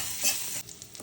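Cumin and garlic paste sizzle in hot oil while being stirred, a steady hiss that swells briefly and then drops to quieter crackles, with no voices.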